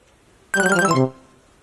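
Phone ringtone: a single bright electronic melodic burst lasting about half a second, loud and close, then cutting off into quiet.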